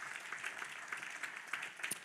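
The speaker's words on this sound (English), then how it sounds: "she gets a round of applause" Audience at a conversation event applauding a woman for organizing a book club, soft steady clapping from a room of people, fairly faint and continuous throughout.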